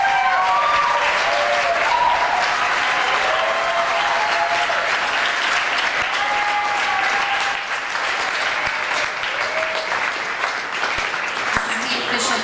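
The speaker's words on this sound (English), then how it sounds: "You can give them a round of applause." Applause from an audience at a church internship graduation ceremony as the graduating girls come up onto the stage, steady dense clapping filling the room for the whole stretch, with a few voices mixed in.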